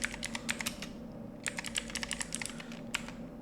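Quick, irregular tapping of a computer keyboard while entering commands in a Red Hat Linux terminal, close and fairly soft, with bursts of keystrokes separated by short pauses over a steady low hum.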